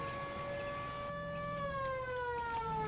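A 1940s-style ambulance siren in L.A. Noire wails as a sustained tone that slowly falls in pitch, steady and moderately distant, with no speech over it.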